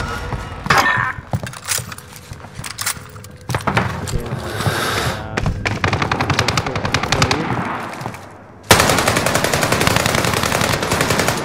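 Rapid automatic gunfire and single shots from Call of Duty Modern Warfare, loud and dense, with bursts of machine-gun fire running through most of the stretch and a sharp, sustained volley near the end.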